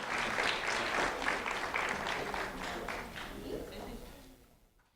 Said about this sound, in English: round of applause for Joshua